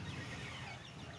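Silkie chickens about 45 days old cluck faintly and steadily over a soft, continuous farmyard noise for a brief moment, with no voices.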